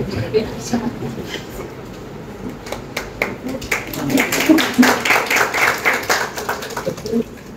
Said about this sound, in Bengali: কি ব্যাপার, হাততালি দিতে কি সমস্যা হচ্ছে?